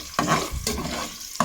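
Garlic and onion sauté in a pan for spaghetti macaroni, giving brief stirring scrapes and a soft sizzle with no talking.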